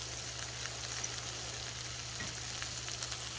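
Beef tenderloin steaks searing in a hot pan, a steady dense sizzle and crackle with an even low hum underneath, close and constant with no talking.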